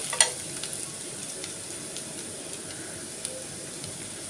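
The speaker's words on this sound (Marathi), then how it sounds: "कांदा छान भाजून झाल्यावरती त्याच्यात सगळे मसाले टाकायचे हळद मीठ" Onion and spices, including turmeric and salt, frying in a pan give a steady, fine crackling sizzle, close and even throughout, with a faint clink of a utensil near the start.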